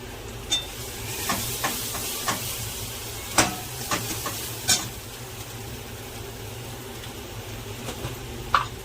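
Onion-garlic masala with a little turmeric sautéing in a pan, a steady sizzle broken by sharp scraping stirs and spoon clicks spread through the clip, close and fairly quiet with no voices.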